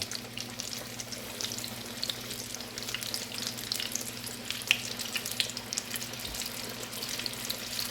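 Fish sizzles and crackles steadily in hot frying oil in a pan, a dense continuous hiss with scattered pops, close and fairly loud throughout, with a low steady hum beneath and no talking.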